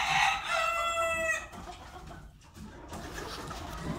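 An imported hen and a rooster in a yard, with a loud nearby rooster crow at the start followed by quieter clucking and low background noise.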